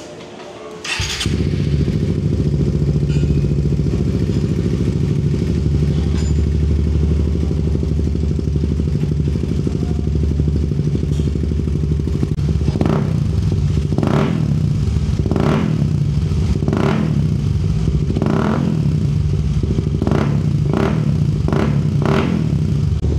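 A Suzuki GSX 150 motorcycle with a Yoshimura R77 canister exhaust and VMAX elbow fires up at a racing shop, idles steadily, then gets a run of sharp throttle blips, close and loud.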